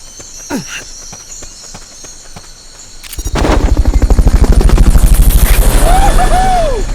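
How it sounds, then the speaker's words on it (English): Fulton recovery helicopter from Metal Gear Solid: Peace Walker: after a few sparse game sounds, a loud rhythmic rotor thump starts abruptly and holds close and steady, with a rising whine over it. "Fulton recovery helicopter is complete."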